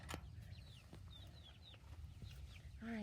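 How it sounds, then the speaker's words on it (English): Chickens in a garden cluck and chirp softly at a distance over a low rumbling background, with a brief louder squawk near the end. "And there's the chickens."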